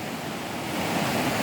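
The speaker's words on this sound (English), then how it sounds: "either like a falls or a creek" Steady, broadband rush of flowing water from a falls or creek along a nature centre walk at Kokanee Creek park, a continuous wash that swells slightly toward the end, with no voices.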